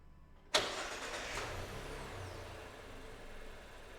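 A car engine cranks with a sharp initial burst and catches, then settles into a steady, close idle that continues without talk, during work on the engine control unit's sensors and actuators.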